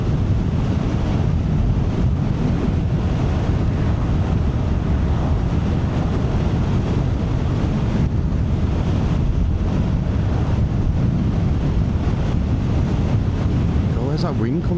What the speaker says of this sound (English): where's that wind coming from?